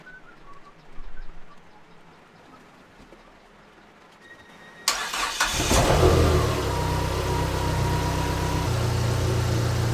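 A Dodge SRT-4 engine cranks and catches after an alternator replacement, with a sharp start midway followed by a steady, loud idle and a faint whine. Quiet ambient sound and birds come before it.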